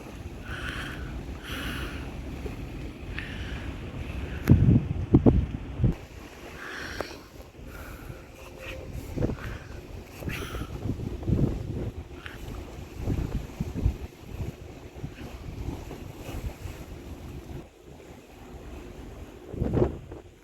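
Wind buffets the open bow of an anchored cargo ship at sea, with a continuous rushing roar, gusty microphone rumble and washing water, loud and close throughout with heavier bursts now and then.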